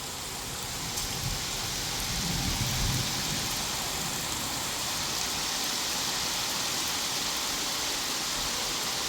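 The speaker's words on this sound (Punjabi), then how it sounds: "ਬਾਰਿਸ਼ ਦਾ ਮਾਹੌਲ" Heavy monsoon downpour with strong gusting wind, rain hammering surfaces in a steady, loud, dense hiss that barely changes, with a low thunder-like rumble swelling briefly near the start.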